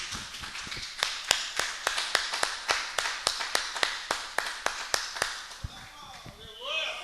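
Church congregation applauding together during a service, a steady run of sharp, loud claps in even rhythm that fades out near the end, with a voice speaking faintly underneath.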